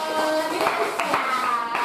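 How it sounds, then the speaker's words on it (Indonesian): Students in an English class clapping for a group after its presentation, brief steady applause with children's voices mixed in. "beri tepuk tangan untuk kelompoknya."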